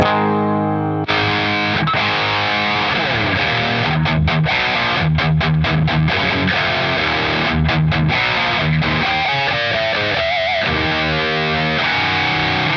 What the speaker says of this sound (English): Now moving on to a little bit more gain, we've got the Revv G3.